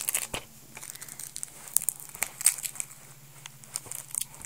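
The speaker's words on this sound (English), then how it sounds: "Almost got the wrapping off." Plastic wrapping being peeled and torn off a Halo 4 game box, a close run of sharp crinkles, crackles and small tearing bursts with brief pauses between, no talking.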